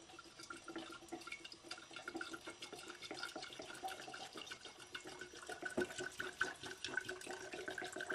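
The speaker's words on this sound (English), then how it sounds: "So get all the denatured alcohol in here." Denatured alcohol pours steadily into a one-quart jar for mixing shellac, a continuous soft gurgling and splashing stream that stays faint and close throughout without any talking.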